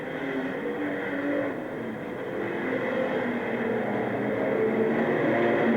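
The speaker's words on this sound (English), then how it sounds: "he's got Swire down on the inside of him in the XY Falcon, car number 20." Race cars lapping Wollongong City Speedway in 1983, including an XY Falcon and a hatchback Torana, make a steady, continuous engine roar that swells and fades slightly, with no speech.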